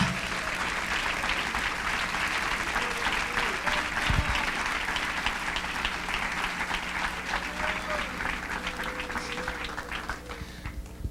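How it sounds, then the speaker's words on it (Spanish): A church congregation claps continuously during a worship service, a dense sustained patter of hands, with a voice speaking faintly beneath and some crowd murmur throughout. "Dele palmas al Rey en esta mañana"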